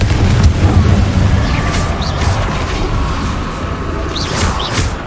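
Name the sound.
Confringo explosion spell blast in video game Hogwarts Legacy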